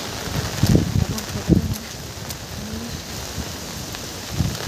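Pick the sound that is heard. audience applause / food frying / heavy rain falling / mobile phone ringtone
heavy rain falling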